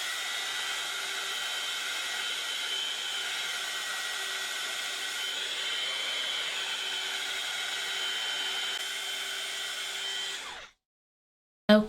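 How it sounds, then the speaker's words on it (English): A heat gun blows a steady, loud whooshing roar over gilding glue on a clay craft piece for about ten seconds, then cuts off abruptly into silence, followed by a brief click at the very end. "I am going to use the heat gun to dry it with."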